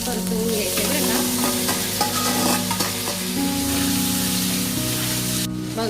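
Moth beans sizzle and fry steadily in a pan with red chili and salt, a constant loud crackle with occasional scraping stirs, no voices.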